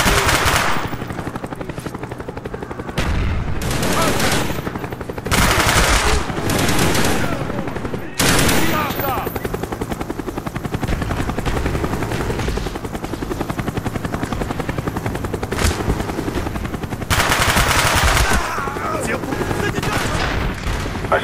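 An enemy Cobra attack helicopter in Call of Duty Black Ops multiplayer, its loud continuous rotor thrum filling the scene alongside bursts of machine-gun fire and gunshots, with short radio-style voice callouts breaking in.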